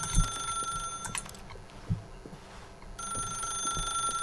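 A telephone rings in The Stanley Parable, bursts of bright electronic ringing near the start and again at the end, with a pause between and soft clicks and thumps underneath.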